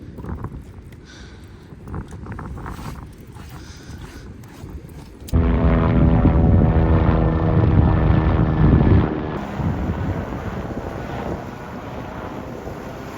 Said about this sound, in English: Rescue chopper, I think.